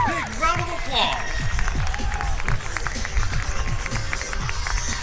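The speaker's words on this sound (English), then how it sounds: "Please give all the Golden Knights a big round of applause." An airshow crowd at Jones Beach applauds the U.S. Army Golden Knights parachute team. Scattered clapping and cheering sit under a loud announcer's voice, with outdoor crowd noise throughout.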